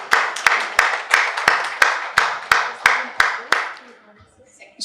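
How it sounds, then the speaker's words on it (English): An audience at a panel discussion on women's leadership applauds a speaker taking her seat on the dais. Strong, evenly spaced claps come close and clear for about four seconds, then stop abruptly. "Let's have an applause for her."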